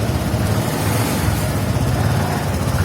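TVS XL-100 Heavy Duty BS6 2020 moped engine starting up, a steady close low puttering rumble with dense broadband noise, continuous and fairly loud, no voices.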